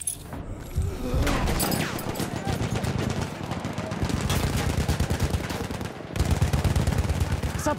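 Enemy machine gun fire in a war video game, sustained rapid bursts rattling almost continuously with dense overlapping reports and a brief break near the end, loud and close.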